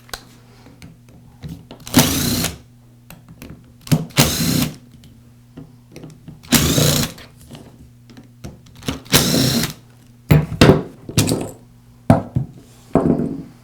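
A power screwdriver buzzes in repeated short bursts, close and fairly loud, while removing the four screws of a Makita angle grinder's gearbox housing, with quiet handling clicks between the bursts.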